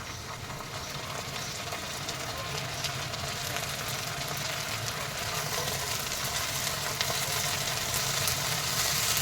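Onions with ginger and garlic frying in a pan for a Bheja masala, a steady dense sizzle that holds evenly close and loud throughout with no speech over it.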